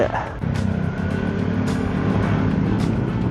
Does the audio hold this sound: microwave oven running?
no